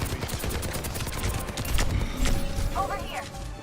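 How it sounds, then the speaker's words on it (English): Torbjörn's turret in Overwatch 2 fires rapid, continuous bursts of gunfire amid other game effects, with a voice talking over the shooting. "The Torb turret?"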